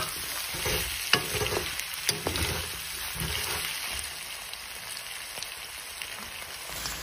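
Mutton pieces frying in a pan for a Nepali-style Assamese mutton curry, a steady close sizzle with occasional stirring clicks and no talking.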